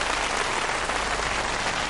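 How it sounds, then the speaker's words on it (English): Brief burst of audience applause for a musician at a live music event, a dense wash of clapping heard at a moderate level, steady throughout with no talk. "Please give him a big round of applause."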